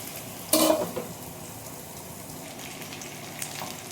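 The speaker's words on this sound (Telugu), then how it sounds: "చికెన్ అయితే బాగా వేగింది" Spicy chicken roasting in a pan, a soft steady sizzle running throughout, with a brief sharp clatter of stirring near the start and faint scrapes later.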